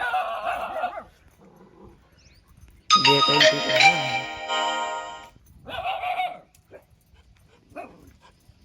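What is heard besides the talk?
dog barking and growling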